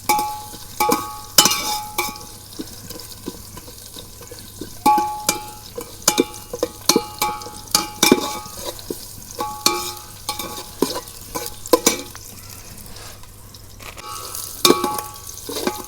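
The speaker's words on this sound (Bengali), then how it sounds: "মশলাগুনা সুন্দর করে তেল দিয়ে ভাজা নিতেছি" Spices fry in hot oil for a beef biryani, with a constant sizzle under repeated scraping and clinking strokes of a spoon stirring the pan.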